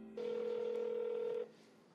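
A single steady telephone tone, close and clear, lasting just over a second before cutting off into quiet room noise.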